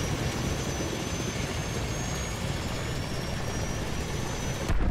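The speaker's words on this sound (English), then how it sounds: "but I guess you could have a helicopter gunship" Helicopter gunship flying in the Call of Duty: Modern Warfare 2 campaign, a loud, steady engine and rotor roar that holds constant throughout and ends in a brief louder burst, with no talking.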